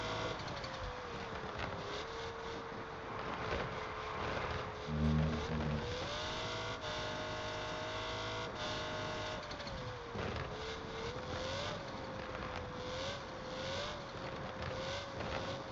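A Pagani Zonda's engine drones steadily in the CPM 2 racing game on the Nürburgring, its pitch rising and dipping through gear changes and throttle shifts, with a brief low thump partway through.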